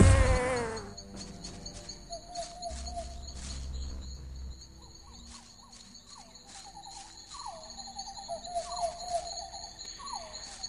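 Bloodflies buzzing in the video game Gothic, a faint insect-like drone layered with high tonal chirps and repeated falling creature calls, set against steady ambient game sound with no talk.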